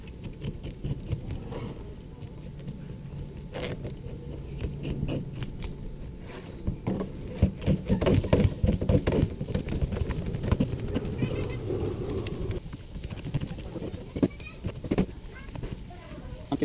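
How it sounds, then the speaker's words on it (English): A snapper is scaled with the scaler on the back of a knife, producing repeated rough scraping strokes in quick, uneven bursts, close by and moderately loud. "So after we scale the fish, we cut off the fins."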